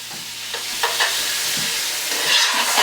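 Vegetables with oregano and chopped garlic stirred in a frying pan for tofu parmigiana, a close, continuous sizzle with scattered scraping and clicking utensil strokes; no talking.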